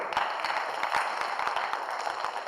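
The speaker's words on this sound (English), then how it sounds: "Let's give him a round of applause." Steady applause fills a school assembly hall, a dense wash of many hands clapping at once with a few sharper nearby claps standing out, lasting throughout without talk.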